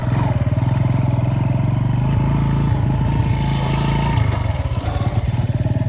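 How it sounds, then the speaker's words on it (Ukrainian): Motorcycle on a rural road in Poltava region accelerating hard with a loud, close, throbbing engine note, a brief dip in revs around the gear change into second, then pulling again. "Погнали, погнали, друга передача."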